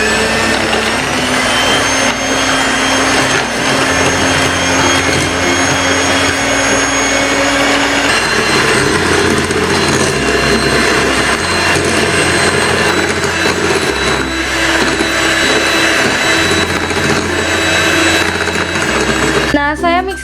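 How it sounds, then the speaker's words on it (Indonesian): Electric hand mixer whirring at top speed, beating fermented cassava tapai with eggs until thick and white, a loud continuous whine with pitch shifts as the beaters move through the batter, the motor running steadily throughout. "Selanjutnya akan kita mixer menggunakan kecepatan paling tinggi sampai putih, kental, dan berjejak."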